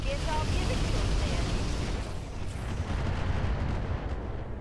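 Fluid guns and grenade launchers fire in the mech video game Roguetech, making a dense, continuous rumbling barrage of booms and bursts that stays loud and steady throughout.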